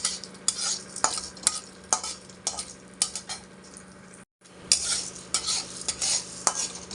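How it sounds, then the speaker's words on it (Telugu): Urad dal stirred and dry-roasted to a red tint in a pan for a drumstick-leaf chutney, spoon scraping repeatedly in an uneven rhythm over a faint steady sizzle, close by, with a brief silent gap midway. "మినపప్పు ఇట్లా ఎర్రగా వేయించుకోవాలి"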